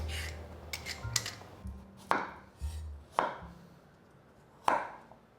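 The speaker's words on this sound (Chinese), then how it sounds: "把红萝卜切成厚片" A knife cuts a small whole carrot into thick slices on a cutting board. Sharp chopping knocks come at an uneven pace, five or six of them, close and distinct over a quiet background.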